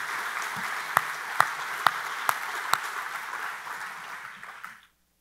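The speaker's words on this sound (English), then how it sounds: "if we could just give them a special applause" An outdoor crowd at a family picnic applauds the event hosts, a steady wash of clapping with a few sharp, louder claps standing out early on, fading away and ending abruptly.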